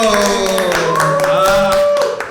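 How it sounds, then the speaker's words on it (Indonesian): A crowd claps in a dense burst of applause, loud and close, with a sustained musical tone and voices mixed underneath. "Tepuk tangan untuk Bang Yoyo."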